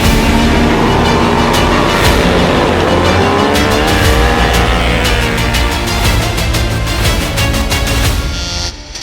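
Bagger motorcycles roar off the grid at the start of a King of the Baggers race at Mid-Ohio, a loud, sustained engine howl with rising pitches as the pack accelerates.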